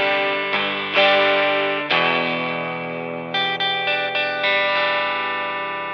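Electric guitar played through a Trinity Drive overdrive pedal for a worship tone: a handful of loud, sustained distorted chords struck one after another, each ringing out with a smooth, saturated tone and no talking.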